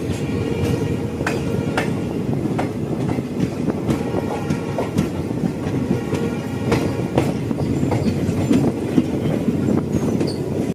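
A train runs near Margherita railway station in Assam with a loud, steady rumble and regular clickety-clack beats of the wheels, continuous and close with no speech.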